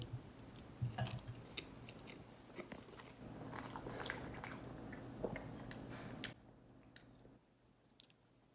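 Someone eats creamy homemade mac and cheese with quiet, close, wet chewing and soft bites, alone without talk.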